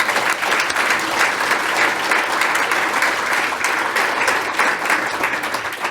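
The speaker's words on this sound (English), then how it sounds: "you can applaud that." Loud, sustained applause from an audience at a county government State of the County address, steady dense clapping filling the whole stretch with no speech over it.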